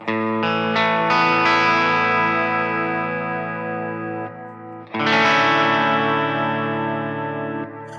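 Electric guitar through a bright, Marshall-style Cartographer amp patch on a POD Express, playing loud sustained chords with rich overtones, a short pause near the middle, then another strummed chord ringing out, with chorus-like shimmer and reverb.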